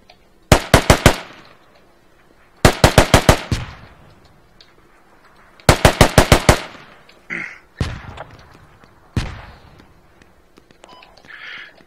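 Bursts of close, loud automatic gunfire in the military shooter Squad, three sharp rapid volleys separated by pauses, followed by scattered single shots and distant cracks.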